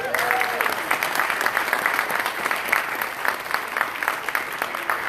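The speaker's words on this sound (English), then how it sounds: "Let's give them a round of applause." Sustained audience applause fills a gala family night event, a steady wash of many hands clapping at moderate volume from start to finish with no pause.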